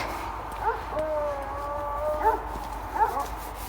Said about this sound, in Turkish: ciddi ciddi köpekler saldırmak üzere